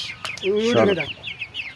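Pigeons being called by their keeper and fed: a drawn-out voiced calling sound in the middle, followed by a string of short, quick, chirpy bird notes, fairly close and moderately loud.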